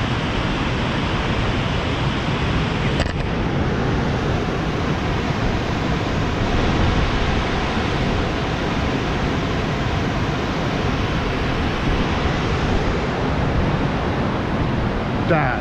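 Waterfall seen from a window of the Haverhill-Bath covered bridge in New Hampshire, a steady, broad roar of falling water that stays loud and unbroken throughout, with no talk over it.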